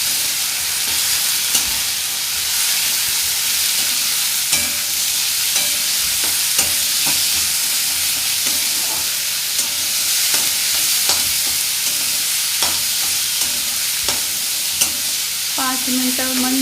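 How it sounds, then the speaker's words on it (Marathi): A ground spice paste fries in oil with a loud, dense, continuous sizzle, broken by occasional scrapes and knocks of a spoon stirring it, heard up close with no talk. "व्यवस्थित तेलात परतून घ्यायचं आहे"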